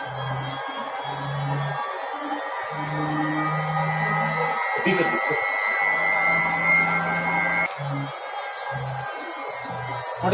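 A lab centrifuge spins at 10,000 RPM during plasmid isolation, giving a steady whirring drone with a high tonal whine, while faint intermittent hums sit underneath throughout.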